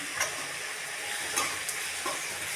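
Chili powder, salt and turmeric frying in oil in a pan for Nellore chicken curry, a soft steady sizzle with a few brief stirring scrapes, quiet and close, with no talking.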